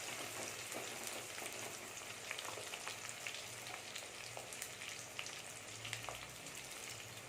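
Small shallots fry in oil with fenugreek for a village-style fish curry, giving a soft, continuous crackling sizzle with scattered pops, faint and steady without any talk.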